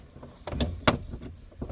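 Electric driver's window on a Pilote Galaxy 75MX motorhome, original glass moving up in the door, giving a short mechanical run with a few bumps and a sharper thud near the middle, close and moderately loud.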